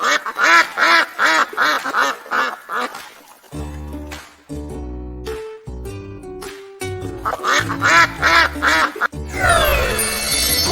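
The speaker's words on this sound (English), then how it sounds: "Duck." Cartoon duck quacking for a children's farm animal lesson, a rapid run of loud close quacks at the start, then bright musical tones and further quacking later, with a rising sweep at the end.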